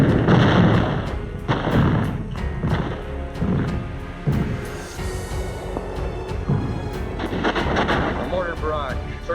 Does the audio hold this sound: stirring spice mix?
no